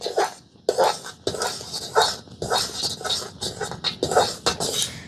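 A utensil scrapes and clinks rhythmically against a pan while semolina is stirred for a pitha sweet, with repeated quick strokes close up and no talking.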